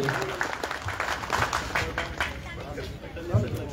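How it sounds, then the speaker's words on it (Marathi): An audience breaks into applause for an honoured speaker at a public gathering, a brief burst of mixed clapping with crowd murmur and voices over it. "जोरदार टाळ्या साहेबांसाठी झाल्या पाहिजे."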